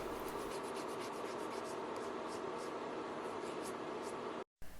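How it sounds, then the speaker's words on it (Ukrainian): A natural fingernail being sanded and filed into shape before extensions, giving a steady, close, continuous abrasive rubbing with a brief gap near the end. "Повністю зашліфовую всю нігтєву пластину, щоб в мене була гарна щіпка з штучним матеріалом. Та опилюю ніготь по формі."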